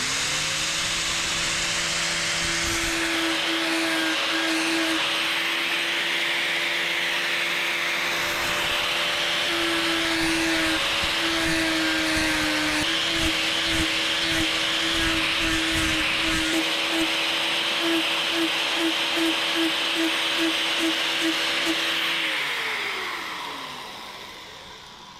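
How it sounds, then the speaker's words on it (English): An angle grinder levels a metal gearbox part, giving a long, loud, steady high whine with scraping grit as it presses into the metal, before spinning down at the end. "the only thing I'm going to get down there with is with the grinder again"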